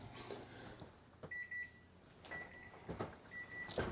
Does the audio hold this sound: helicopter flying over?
no